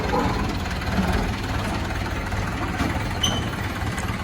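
Tractor engine running steadily in low gear while working a rice field, a continuous loud low rumble with no break across the whole stretch.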